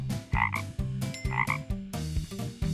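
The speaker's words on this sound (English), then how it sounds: "A frog." A cartoon frog from a children's farm-animal game croaks in a few loud, close, rhythmic bursts over a bouncy backing tune.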